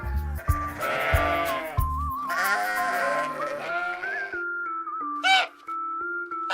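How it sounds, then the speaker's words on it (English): Sheep bleat in a series of wavering, nasal calls, several overlapping cries close by, with a short sharp bleat near the end and a tonal background note running underneath. "sheep, sheep,"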